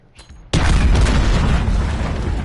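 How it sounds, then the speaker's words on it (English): A heavy explosion in the shooter game Modern Warfare, ground war mode, booms suddenly after a faint lead-in and then holds a loud, roaring, slowly fading rumble. "Explosions, bro."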